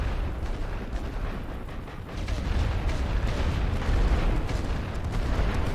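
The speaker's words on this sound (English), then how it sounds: "I'm going to use my heavy artillery to make sure these machine guns don't bother me." Heavy artillery fire rumbles through a First World War strategy game, with repeated deep booms and rolling blasts merging into a continuous, moderately loud bombardment.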